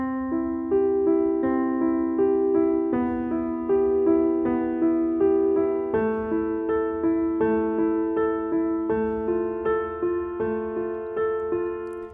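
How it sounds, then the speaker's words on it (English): Piano chord notes played up and down at a quicker, steady pace with the sustain pedal down, the struck tones blurring together into a continuous ringing wash, moderately loud with no voices. "And when you play this a little faster, it sounds like this."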